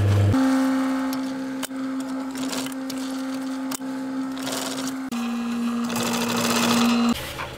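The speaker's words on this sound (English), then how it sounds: "I'm going to carry on round and I'm going to get all of the corners sewn up." A sewing machine runs steadily while stitching the corners of a waterproof garden seat pad, a loud continuous whirring drone with a few brief pauses and one restart, up close with no talk.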